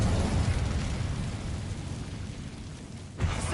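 Incendio fire spell in Hogwarts Legacy cast as a rumbling, roaring burst of flame that fades over a few seconds, then a fresh whoosh flares at the end.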